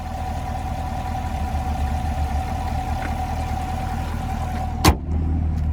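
A blue 2022 Chevrolet Camaro LT1 with a 6.2-liter naturally aspirated V8 idles nearby with a steady low rumble and a faint constant hum, broken near the end by a single sharp click.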